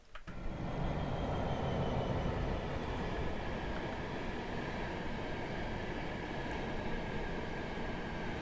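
A BR Class 66 locomotive runs on the Chatham Main Line in a train simulator game, its heavy diesel rumble and rail roar rising quickly at the start, then holding loud and constant throughout, with a faint whine over the top.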